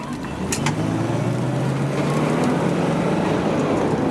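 A 1972 Mercedes-Benz 280SE 4.5 with floor shift accelerates, its engine note rising steadily in a continuous close interior drone with road noise and no talk.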